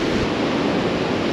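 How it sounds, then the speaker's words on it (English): Surf breaks on a sandbar beyond an inshore beach gutter, a steady broad wash of waves mixed with gusting wind buffeting the microphone, continuous and fairly loud with no voices. "You can see the inshore gutter here with the waves breaking on the sandbar just beyond it."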